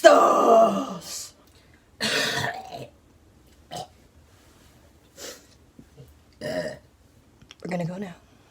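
Short, separate burps after a Taco Bell meal come every second or so, mixing deep belches with snorting, throat-clearing sounds, loud and close with brief quiet gaps between.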